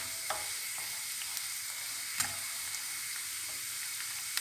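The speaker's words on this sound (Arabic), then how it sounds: "هاي البصلة تقريبا عم تتقلى عنا" Onion fries in a pan with a steady bright sizzle, broken by a few faint clicks and pops, and no one speaks.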